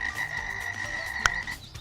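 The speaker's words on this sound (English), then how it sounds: "frog," A frog croak sound effect from a mod menu in the video game Destiny, a single short electronic croak with a sharp click partway through, heard alone over a low background hum.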